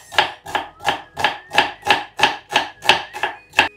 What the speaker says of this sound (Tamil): ஷெஃப் மாதிரியே கட் பண்ற.